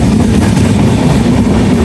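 Tripura Sundari Express, a long-distance Indian train, rumbling loudly and steadily along the rails, a dense close roar with faint clattering throughout and no voices.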